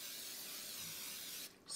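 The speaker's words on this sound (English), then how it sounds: "Spray your pan really, really well." Cooking spray hisses steadily from an aerosol can onto an 8x8 inch baking pan, one continuous close burst that cuts off near the end.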